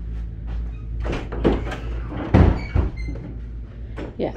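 An interior door in a house bathroom area opens and closes with a few thumps and a sharp knock partway through, close by against a low room hum.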